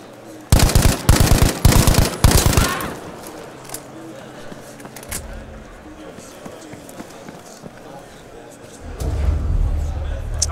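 Breda M1935 PG machine gun firing in Battlefield V, a loud, rapid burst of automatic shots lasting about two seconds, then quieter movement and footstep sounds with a rumble near the end, while a player talks.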